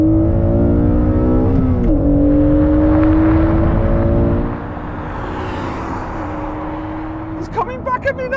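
A Honda Civic Type R and an Honda NSX in a drag race: a loud engine revs high and climbs steadily through gears close up, then drops to a lower rumble, with someone talking over the noise.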